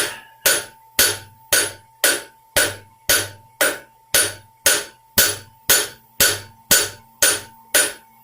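A hammer strikes a steel leaf hook on an anvil in an even rhythm, about fourteen sharp, ringing metallic blows, each followed by a brief decaying ring.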